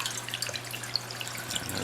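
Water rippling and splashing at the surface of a reef aquarium, driven by a sump pump outlet and an MP40 powerhead, a faint steady trickle with small drips over a low pump hum.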